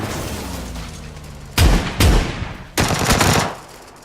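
Gunfire in PUBG during a fight with an enemy player, three sharp loud bursts of shots close together over a steady engine-like hum.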